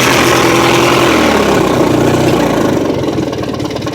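A steady, loud idle from an opposed twin engine just after its carburetor was cleaned, running close by with an even, rapid chugging throughout and no voices.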